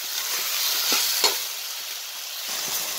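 Chickpeas and tomato with spice masala sizzle in a pan while being stirred, a soft, steady frying hiss broken by a few brief scraping stirs, with no talking.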